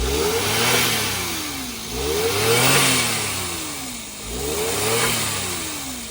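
A Suzuki Jimny engine fitted with a cold air intake venting to atmosphere revs up three times, each rise and fall clear and close, with the engine idling between blips.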